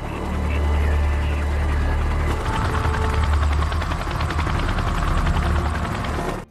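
A helicopter's rotor thumps and engine drone continuously, fairly loud, with a rougher rhythmic chopping emerging partway through.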